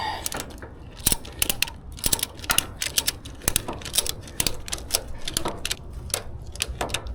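A ratchet strap being tightened to hold a 32-ft extension ladder on a 10-ft pressure washing trailer, a rapid series of close, sharp mechanical clicks in uneven bursts.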